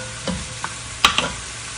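Canned tuna being stirred in a pan gives a few close scraping and clinking strokes of a utensil, with a soft frying sizzle underneath, brief and irregular.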